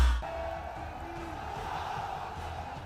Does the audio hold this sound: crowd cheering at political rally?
yes